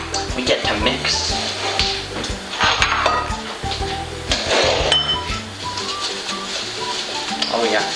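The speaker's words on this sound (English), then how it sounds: "And now we get to mix." Butter, flour and sugar being mixed in a bowl for an apple pie, giving a busy run of scraping, clattering and light clinks of utensil against dish, fairly close, with no talk.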